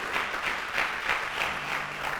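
A church congregation claps together during a sermon, a steady, moderately loud wash of applause with a faint regular pulse running through it for a couple of seconds.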